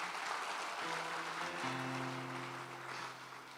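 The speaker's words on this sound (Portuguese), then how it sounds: "Vamos aplaudir aí pelo nosso tecladista." A church congregation applauds their keyboardist, a broad wash of many hands clapping at once, steady and diffuse, with sustained keyboard tones sounding underneath.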